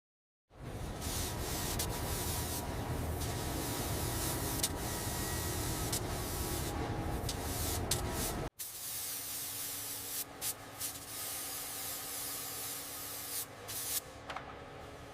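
Spray gun applying a coat of paint to restored, formerly rusted heavy machinery: a loud, continuous hiss for about eight seconds, a brief cutoff, then a second steady spraying pass with slight flutters.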